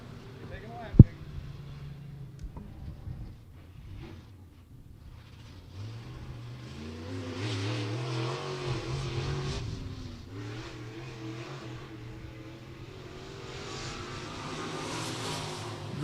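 A race car engine at a local speedway during qualifying rises from a distant hum into a louder rising and falling drone as the car comes around the track, with an announcer talking over it.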